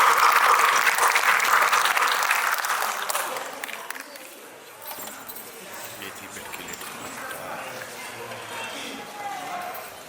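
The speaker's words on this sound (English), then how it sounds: "So you are big round of applause for Surendranath sir." An audience at a school alumni meet applauds a retired ex-principal. The clapping is strong for about four seconds, then fades into scattered claps with voices murmuring underneath.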